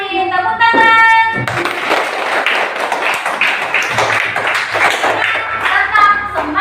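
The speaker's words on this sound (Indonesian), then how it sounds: "untuk kita semua kita kasih tepuk tangan" Classroom clapping from a group of students at the close of an Islamic religious education lesson, a burst of rapid, uneven hand claps with a voice and some thumps around it at the start and end.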